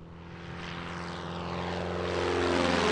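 A Hercules light propeller plane flies overhead at an airshow in Leszno, its steady engine drone and propeller buzz swelling louder as it approaches, with no voices.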